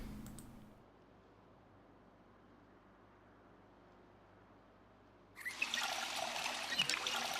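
Water containers being filled in the zombie survival game Project Zomboid: a faint low trickle runs for several seconds, then a louder rushing pour of water starts near the end.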